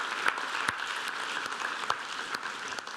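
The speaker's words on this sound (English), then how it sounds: "let's give Meredith and Tim a big round of applause" A conference audience applauding steadily, dense clapping from many hands at moderate distance, continuous for a few seconds without speech.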